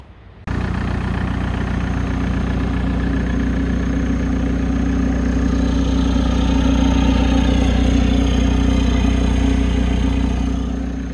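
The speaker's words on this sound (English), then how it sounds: "That's the noisy vent." Steady, loud whooshing drone from a noisy vent running inside a car, starting abruptly and holding constant with a low engine-like hum underneath, no talking.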